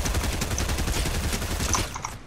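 Rapid, continuous bursts of automatic gunfire in Fortnite crackle densely throughout, loud and close, with no pauses or voices.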